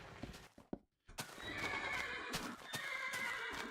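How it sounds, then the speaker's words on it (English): Horses in a Minecraft modpack game whinny and neigh several times, with hooves clip-clopping in short bursts, close and clear after a brief quiet gap. "So many horses as well."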